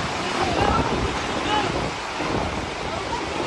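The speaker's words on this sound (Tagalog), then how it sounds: "Maririnig pa ang paghingi ng tulong ng ilang residente habang binabayo ng malakas na hangin at ulan." Strong wind and rain batter a flooded barangay in La Carlota City, Negros Occidental during Typhoon Tino, a steady, loud, unbroken roar of gusts and rain noise close to the microphone.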